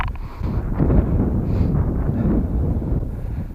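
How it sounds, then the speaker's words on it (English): Strong gusts buffet the microphone in a steady low roar, loud and constant throughout with no voices, outdoors at an RC plane flying session. "it's just too windy"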